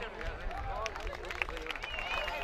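Audience applause at an evening gastronomy festival, a soft steady patter of clapping with crowd murmur and a voice speaking over it.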